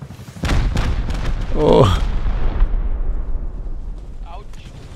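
Rockets blast a base in the survival game Rust: heavy booms and rumbling explosions land close together, then fade into a long rolling decay while a voice exclaims briefly.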